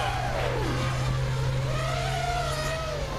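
ZMR 180 carbon FPV quadcopter carrying a GoPro, its motors whining steadily and rising and falling in pitch as the throttle works hard, continuous and fairly loud, with no talking.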